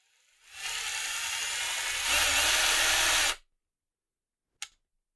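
Power drill boring a hole in a computer case, a loud whirring burst of about three seconds that shifts pitch partway through, then stops, followed by a brief click.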